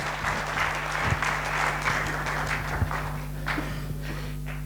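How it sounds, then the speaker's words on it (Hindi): Sustained audience applause from a crowd at a motivational talk, steady and fairly loud throughout, with a few scattered thumps and no voices. "मैं चाहूंगा सर के लिए भी जोरदार ताली बजना चाहिए।"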